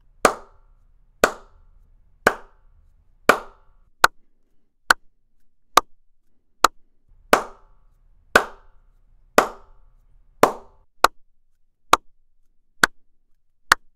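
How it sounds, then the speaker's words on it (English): Sharp hand claps, about fourteen evenly spaced single strikes, each ringing out with a short live decay in an untreated room, loud and close with no talking. "I'm gonna clap a few times, then jump back and forth between the spaces to show you the difference in the liveliness"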